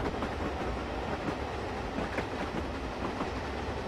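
A mainline steam locomotive running in Train Simulator 2016 on the Western Lines of Scotland, giving a steady, continuous rumble with faint rhythmic clatter throughout, fairly loud and with no talking over it.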